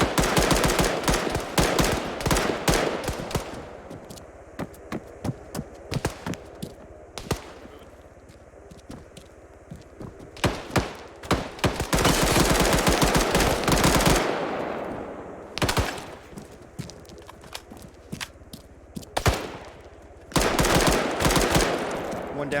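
Heavy gunfire in a military video game, with rapid bursts and single cracks coming from the left, loud and close, firing in repeated volleys with brief pauses between them.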